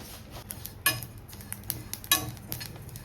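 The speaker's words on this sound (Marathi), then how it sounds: "आता घालता बडीशेप 50 ग्राम." Fennel seeds tipped into a dry pan for Goan garam masala, giving scattered light ticks and clinks with two sharper metallic strikes from a utensil, close and quiet.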